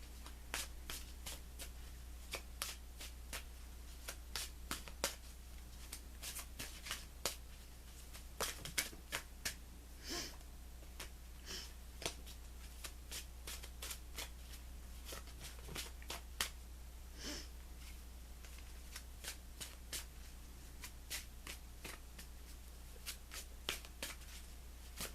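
Tarot cards shuffled by hand, a long run of soft riffling and flicking card sounds in irregular bursts, close and quiet over a steady low hum.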